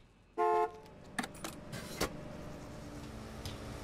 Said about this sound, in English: Why is everybody honking, dude?